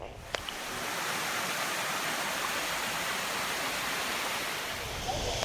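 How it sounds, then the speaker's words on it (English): A roaring three-tiered waterfall in Malaysia fills the scene with a dense, steady rush of falling water, loud and continuous, with a faint knock near the start. "We're just at the waterfall."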